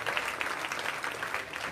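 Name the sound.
audience applause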